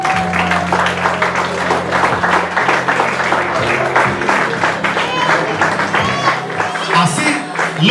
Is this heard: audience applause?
yes